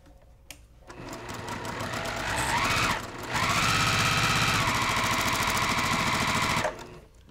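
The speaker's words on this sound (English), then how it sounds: "I'm just going to sew." Sewing machine stitching small quilt fabric pieces at a 2.0 stitch length, a loud close steady mechanical whir in two runs with a brief pause between, no talking.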